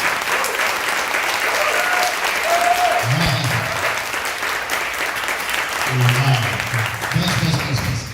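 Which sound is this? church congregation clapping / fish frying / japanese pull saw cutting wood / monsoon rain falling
church congregation clapping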